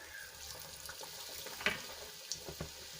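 Leftover roti snack pieces sizzle gently in hot oil in a kadai, a soft continuous frying hiss broken by a few sharp pops and light stirring clinks.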